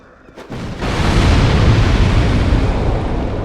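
In a video game, a wall explosion: a single loud boom comes in after a brief quiet moment, then a heavy rumbling roar sustains and fills the rest of the clip.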